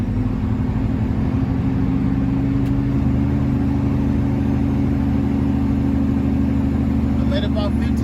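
A truck engine runs steadily and loud, its low drone shifting pitch as the driver drops from a high gear to a low one on a steep downgrade, with speech over it.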